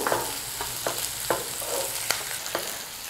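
Onions, capsicum and paneer-dish vegetables stir-fry over a high flame, a steady loud sizzle broken by sharp scrapes of a spatula every half second or so, with no voices.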